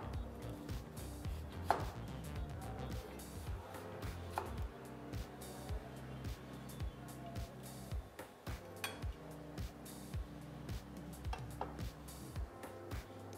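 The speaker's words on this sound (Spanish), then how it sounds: "Vamos a cortar unas rodajitas de cebolla." A knife cuts onion into rings on a board for a homemade burger, a quick steady run of close, crisp chops and taps repeating throughout.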